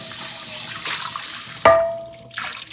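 Running tap water streams steadily while rinsing a pot cleaned with baking soda, then cuts off with a sharp clatter and a ringing metallic tone that fades, followed by a brief splash.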